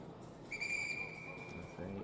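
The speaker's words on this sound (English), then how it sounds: "They get whistled to the line." A referee's whistle at a short track speed skating event in Seoul gives one steady, sustained blast over arena crowd noise, fairly clear and moderately loud.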